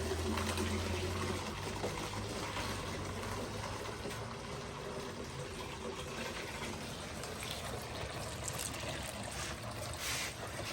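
Coolant mixed with flush cleaner drains from a 1990 Mazda Miata, a steady close gushing and splashing of liquid that runs continuously with a low hum underneath.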